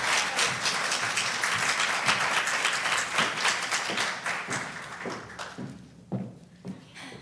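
Audience applause at a Native tribal and indigenous ceremony, a moderately distant crowd clapping steadily, then thinning out to a few scattered claps and faint footsteps as it dies away.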